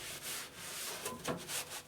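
Cloth rubbing and wiping over an oily steel bar taken off a Sunnen hone machine, a soft continuous scrubbing close by with a few brighter swipes near the end, no talk.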